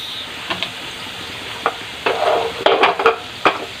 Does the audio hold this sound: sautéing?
yes